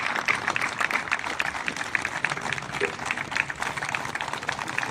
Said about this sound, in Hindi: तालियां बजती रहे साथियों